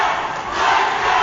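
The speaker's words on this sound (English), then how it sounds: "Listen to this crowd, folks." A large wrestling crowd cheers and yells loudly all at once, a dense unbroken roar of many voices that swells a little toward the end.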